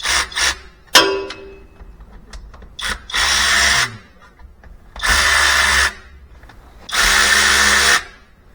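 A cordless electric ratchet loosens the oil pan bolts on a Corvette C5, whirring in short spurts and then in three long, loud buzzing runs with brief pauses between them.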